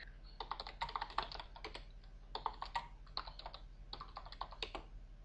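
Someone types a quest info command on a computer keyboard while playing Aardwolf MUD, quick bursts of close, soft key clatter broken by brief pauses, with no one speaking.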